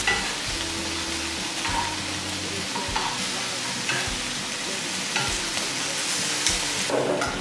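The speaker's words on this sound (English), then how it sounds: "just let them hit the pan, and let them sizzle, and let them cook on one side," Prawns sizzle steadily and loudly in a hot frying pan, with continuous hissing fry noise and occasional stirring clatter, close up and without talk.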